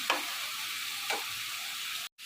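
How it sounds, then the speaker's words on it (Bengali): Onion paste fries in mustard oil in a pan on a stove with a steady, close sizzle, broken by two short scraping stirs and a brief cut near the end. No one speaks. "এই চুলাতে দিয়ে দিয়েছি সরিষার তেল দিয়ে পেঁয়াজ বাটাটা ভাজা হওয়ার জন্য।"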